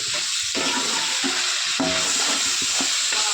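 Chicken pieces frying in a pot on a gas stove for mandi, a steady loud sizzle with bubbling and stirring scrapes throughout, close by and without talk.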